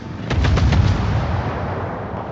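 Naval guns fire in World of Warships, a quick series of four or five sharp booms close together, then a long rumbling decay with low roar under no talk.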